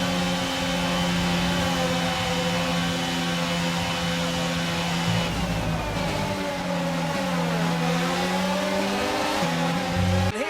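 A Ferrari Formula 1 car in the F1 22 racing game at the Spanish Grand Prix gives a loud, continuous, high engine whine whose pitch slides down and climbs again as the car slows into the pits.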